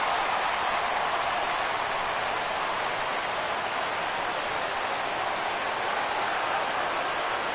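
A baseball stadium crowd at a Blue Jays versus Indians game roars and cheers in a dense, steady wash of noise on a full 3-2 count.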